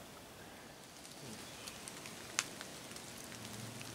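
Light rain falls steadily in a misty forest, a faint even patter with an occasional soft drip or tick standing out, no voices.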